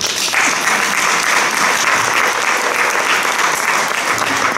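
Luncheon guests at a women's Christian fellowship gathering break into steady, dense clapping. The applause is close and loud and lasts through the whole stretch with little change.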